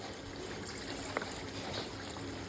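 Water trickles and pours gently into a bowl of rice, a faint, soft, continuous stream with a small splash partway through, heard close and quiet.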